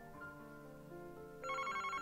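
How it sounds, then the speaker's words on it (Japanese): A telephone rings in the Famicom Detective Club detective adventure game, a chiptune-style ringtone that rises in a brighter trill partway through over background game music, with no talking. "あら、電話だわ。"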